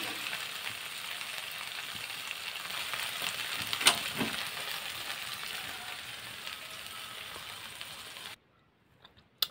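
Corned beef sautéing in a home kitchen pan gives a steady, even sizzle and crackle throughout, with a brief louder pop of stirring midway before the frying cuts off near the end.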